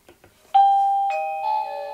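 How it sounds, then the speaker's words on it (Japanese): A couple of faint taps, then the electronic doorbell chime of a GLANSHIELD wireless battery security camera rings out in clear successive tones that ring on and sustain. "ピンポンするとですねこういうふうにカメラにですね映像が映る"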